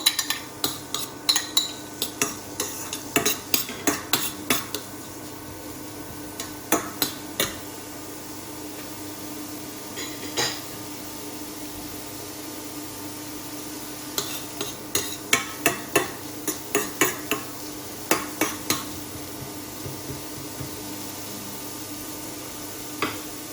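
Onion frying in a pan while being stirred gives faint, steady sizzling, broken by bursts of sharp utensil clinks and scrapes against the pan.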